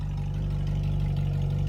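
A Ferrari engine running nearby, a deep steady rumble with a strong low throb and a faint rise in revs, heard alone.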